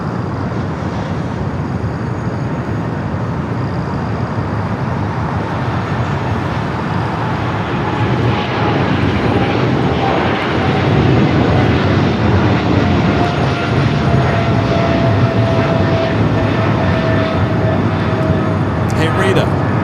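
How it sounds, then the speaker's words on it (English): A Boeing 777 freighter takes off on runway 25 right at Los Angeles airport, a broad, steady jet roar that swells over the clip with a rising engine whine, while people talk over it. "the 777 freighter is now rolling down 25 right, flight heading back to Seoul"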